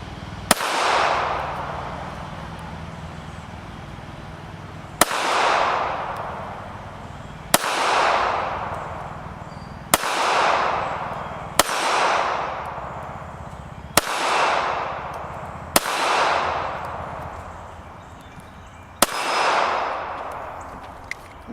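A Smith & Wesson Bodyguard 2.0 pistol fires Tula ammunition at a steel gong, eight sharp, evenly spaced shots a few seconds apart, each followed by a long ringing metallic clang that slowly fades.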